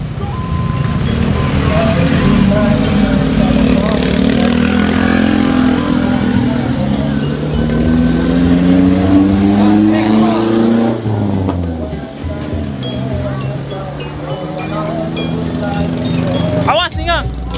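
A wedding procession of cars and trucks carrying bridal furniture rolls past on a village road in Cipasang, Cibugel, Sumedang. Loud engines rumble and rev continuously for about seventeen seconds, and people talk over the traffic.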